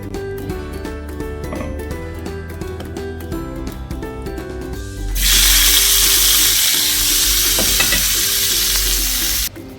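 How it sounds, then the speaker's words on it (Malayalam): Capsicum sautéing in a pan while cooking homemade chicken pasta: a steady close sizzle with stirring scrapes and clinks, then a loud rushing burst of frying noise for several seconds before it cuts back. "ഇനി ആ പാനിൽ തന്നെ ഇട്ടിട്ട് ഞാൻ കുറച്ച് ക്യാപ്സിക്കം വഴറ്റിയെടുക്കുകയാണ്."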